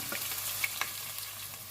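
Onions frying in a pan for a gobhi chicken dish, a faint, steady sizzle with a couple of brief stirring scrapes.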